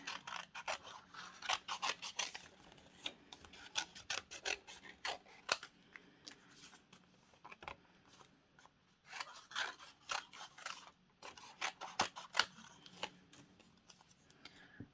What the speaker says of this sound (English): I'll just cut out my little shape roughly first.